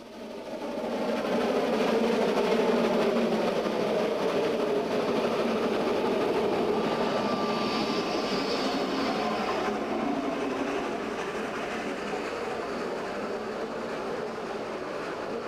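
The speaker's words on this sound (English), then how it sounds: "Our locomotive will work very hard to move the train up grade." A 1912 narrow-gauge steam locomotive pulling a train up grade rumbles and churns steadily for the whole stretch, a heavy, continuous mechanical roar with faint rhythmic clatter and a brief whistle-like tone.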